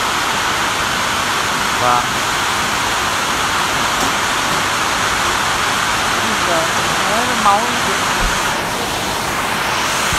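Steady, dense rain pours down outdoors as a continuous loud hiss, with voices talking intermittently over it.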